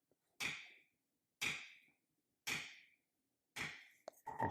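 Four crisp, evenly spaced taps of a leather camouflage tool worked lightly along a flower stem, each a sharp strike with a short decay, close and fairly loud, with a quicker cluster of small knocks at the end.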